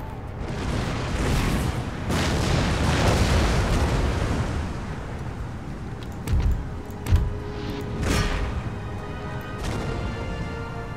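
Musket gunfire crackles through an Empire Total War battle at a Russian bridge, with dense rumbling volleys early, then scattered booms and sharp shots rising out of distant battlefield noise.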